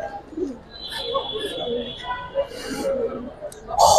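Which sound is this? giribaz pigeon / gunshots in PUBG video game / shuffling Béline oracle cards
giribaz pigeon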